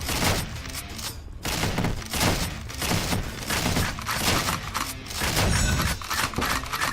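Rapid shotgun blasts from the video game Dungreed, a dense, loud, continuous barrage of booming shots and impacts with no pauses.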